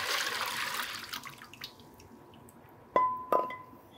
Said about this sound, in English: And we're just gonna rinse out the rest and then go to step three.